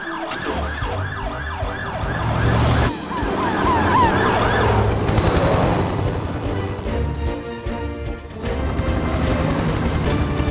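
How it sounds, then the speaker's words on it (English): Cartoon siren of the Mountain Rescue Ambulance from Fireman Sam, a loud wailing tone rising and falling continuously over a rumbling engine and background music. "Helen, you follow behind in the Mountain Rescue Ambulance"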